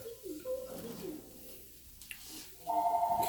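A mobile phone rings in a home kitchen during cooking, its repeating electronic tone entering near the end over faint background noise.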